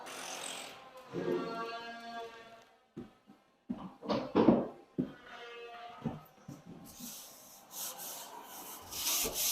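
Sanding of shiplap wood boards, rough rubbing strokes in uneven bursts, near and moderately loud, with gaps between passes.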